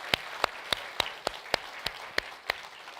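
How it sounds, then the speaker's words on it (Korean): A church congregation claps together during a Sunday worship service, giving about ten sharp, evenly spaced claps in a steady rhythm at a moderate level, with no talking. "하나님 앞에 영광의 박수 올려드리겠습니다"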